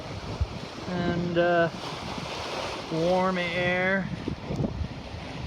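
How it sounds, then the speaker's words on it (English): Steady rush of trade winds and surging Pacific Ocean waves fills the background while someone speaks over it in short phrases, aboard a sailing boat. "Gonna get some footage of our glorious waves. These are the trade winds."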